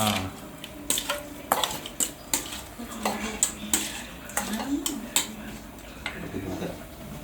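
Ceviche being mixed with plenty of lime juice in a bowl at a cevicheria, steady clinks and scrapes of a utensil against the dish in an uneven rhythm, close by with a faint voice now and then.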